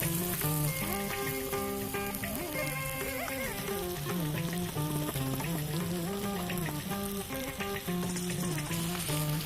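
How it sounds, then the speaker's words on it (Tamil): Spinach sautés in a pan with softened tomatoes, giving a steady sizzle and frying hiss throughout. The sizzle sits under continuous melodic background music, and no one speaks. "இப்போ இந்த பாலக்கீரையை நல்லா வதக்குறோம்."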